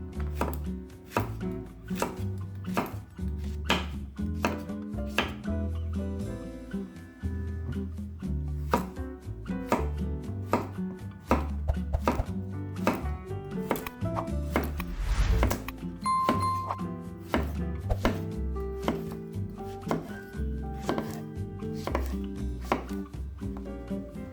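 Zucchini being chopped on a cutting board, with a steady run of crisp knife strikes, close and evenly paced, continuing throughout with no talk.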